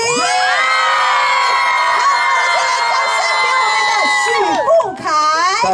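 A large concert crowd at a carnival show at Yong'an fishing harbour in Taoyuan screams and cheers in one sustained, loud, high-pitched roar lasting several seconds, dipping briefly before surging again at the end.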